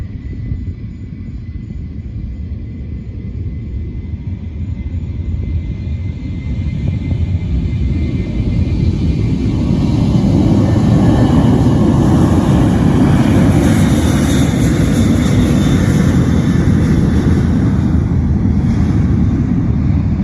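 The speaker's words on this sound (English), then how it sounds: "noisy aeroplanes." A Qantas jet airliner roars as it takes off, a deep rumble building steadily louder and holding strong, with a high whine above it.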